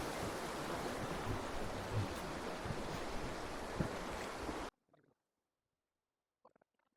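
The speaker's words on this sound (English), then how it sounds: "You probably can't hear us over the creek" Steady rush of a flowing creek close by at a historic mine site, loud and continuous, then cutting off abruptly to near silence with a couple of faint knocks.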